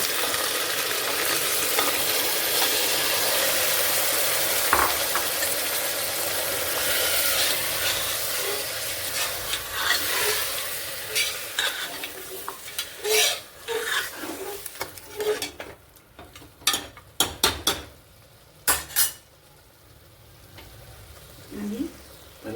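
Mutton tossed into a pan of fried onions sizzles steadily, then turns into scattered stirring scrapes and clanks against the pan, loud and close.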